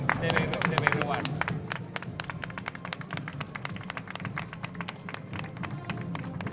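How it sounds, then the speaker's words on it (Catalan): Spectators at a Moors and Christians festival parade in Bellreguard clapping in sharp, scattered, fairly close claps over a low crowd rumble, with talk running underneath throughout. "La gent no para d'aplaudir"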